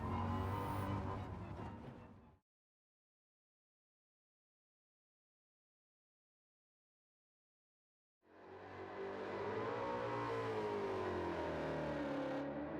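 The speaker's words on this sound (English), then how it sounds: "This Mustang with the engine swap is a horrible drift car in every way." Ford Mustang Gr.3 road car with a swapped engine in Gran Turismo 7, driven on a drift tune: loud continuous engine roar for about two seconds, a long silence, then the engine returns loud and rising, revving with shifting pitch.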